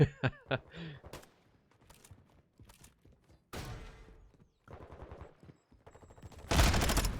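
Gunfire in a competitive shooter esports match, several bursts of rapid automatic shots and single cracks spread across the moment, ending in a loud sustained burst, with faint footsteps between.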